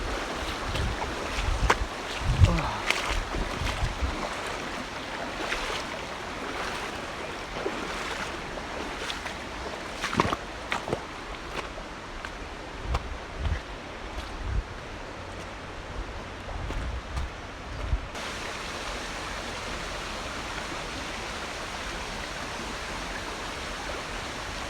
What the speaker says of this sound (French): J'entends le bruit de la cascade. Elle se rapproche.